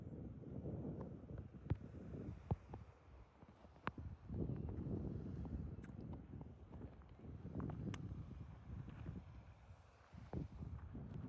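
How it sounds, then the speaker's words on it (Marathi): Wind gusts across the microphone at a dam, a steady low rumbling buffet that swells and eases with scattered knocks and crackles, close and continuous with no voices. "थोडा वारा पण आहे चालू त्यामुळं."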